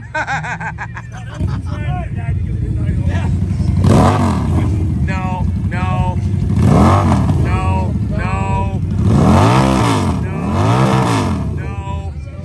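A 103-inch shovel-style Harley motorcycle engine runs roughly and revs up and down in several swelling surges, loud and close, with voices chatting over it.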